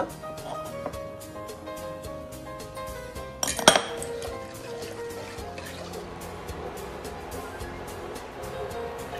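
Rice flour batter mixed with limewater and salt is stirred in a pot, giving repeated light metallic clinks and scrapes against the pot, with one louder clatter near the middle, in a quiet home kitchen.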